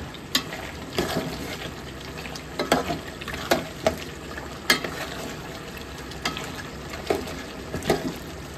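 Beef curry sizzles in a pan as it is stir-fried, a continuous close hiss broken by repeated sharp scrapes and knocks of the spoon against the pan, with no talk.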